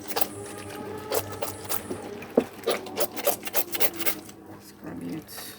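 Clothes are scrubbed by hand on wash day in Jamaica, with a quick series of rough rubbing strokes of fabric against fabric, close and fairly loud, in uneven bursts.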